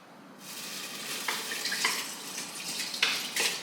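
Water poured into a hot steel rice pot over pre-soaked rice for kateh, giving a loud, steady hissing rush with a few sharper splashing surges, no voices.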